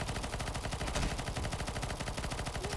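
Rapid automatic gunfire aimed at a boss in a CS:GO zombie escape map, a dense continuous rattle of shots at low level with no pauses.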